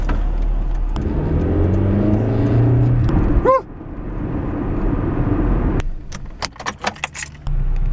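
Cars pass along a busy road, engines swelling and fading near and loud, one vehicle accelerating past, followed by a lull and a burst of sharp clicks and rattles near the end.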